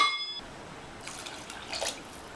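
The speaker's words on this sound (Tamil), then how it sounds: "இப்போ தண்ணி சேர்த்துடலாம்." Water poured into a pot of soaked basmati rice for vegetable biryani, a short splashing pour after a brief quiet start.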